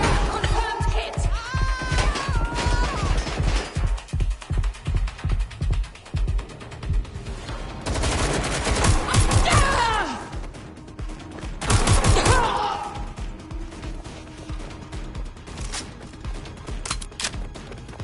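Rapid bursts of gunfire from a PS4 video game, sharp repeated shots and a fusillade of closely spaced cracks, loud and near, with brief shouted voices and calmer stretches between volleys.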